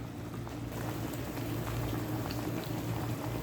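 Sago simmering in a pot of water, a steady low bubbling and hiss that holds evenly throughout with no talking.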